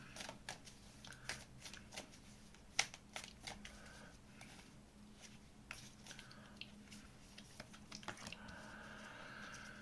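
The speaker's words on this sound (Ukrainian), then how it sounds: "Зараз ще докину карти" Tarot cards being shuffled close up, a long run of soft taps, riffles and papery slides with brief pauses, quiet and without talk.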